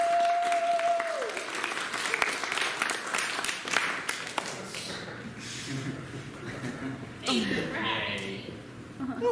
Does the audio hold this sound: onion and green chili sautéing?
no